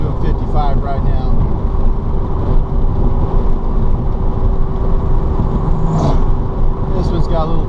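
Electric VW Beetle, a DIY conversion with taller gearing, cruising in third gear at about 55 mph; steady road and drivetrain hum throughout, with a faint whine and some talk over it.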